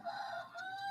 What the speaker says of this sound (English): You can hear the rooster probably in the background.